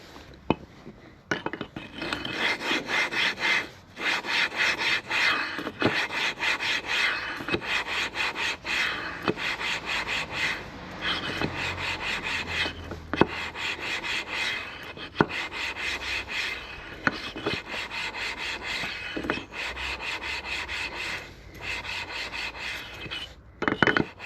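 Steady back-and-forth rubbing as a two-stroke engine part is lapped by hand for a Yamaha RD350LC rebuild, a scraping rasp repeating in strokes with brief pauses, close and fairly loud, no talking.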